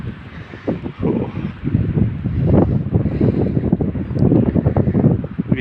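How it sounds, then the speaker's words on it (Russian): Gusty wind blows through a snowy Orenburg street, rumbling and buffeting the microphone in uneven surges that rise and fall throughout. "Вот ветерок."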